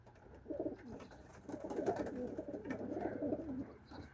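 Soft, repeated cooing of Turkish Takla pigeons in low throaty bursts, fairly close, continuing steadily with little background noise.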